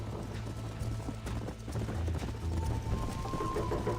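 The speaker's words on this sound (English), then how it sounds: "You're gonna wear that horse out" Rapid rhythmic hoofbeats of a galloping horse in Red Dead Redemption, loud and close, pounding steadily over a low rumbling background with no talking.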